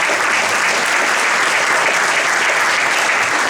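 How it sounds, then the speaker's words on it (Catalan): Loud, dense audience applause at a film presentation event, a steady roar of many hands clapping close by, unbroken and without voices. "Gemma, un aplaudiment, on estàs?"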